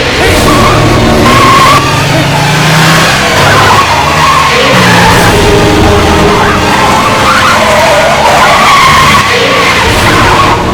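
A car is turned hard to the right with tyres skidding and squealing, loud and sustained over a roaring engine, with a faint voice in the background.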